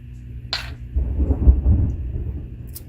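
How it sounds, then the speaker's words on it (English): Thunder from a storm outside rolls in as a low, sustained rumble that swells and fades over a couple of seconds, after a brief sharp crack, heard indoors at moderate loudness. "Got a little bit of a storm going on outside."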